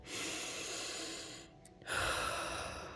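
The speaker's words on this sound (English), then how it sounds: "I love to do aromatherapy and just literally inhale" A deep inhale of peppermint aromatherapy: one long, close breath drawn in through the nose, a brief pause, then a second strong breath, with no talking.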